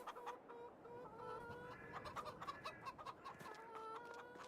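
Several chickens in the video game Farming Simulator 22 cluck and squawk continuously at close range, a busy overlapping chorus of short calls with no talking.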